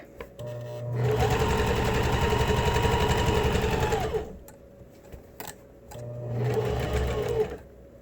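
A sewing machine runs a seam on a fabric face mask with elastic. It gives a close, steady whirring buzz for about three seconds, stops with a brief clunk, then runs again more briefly at the end. There is no talking.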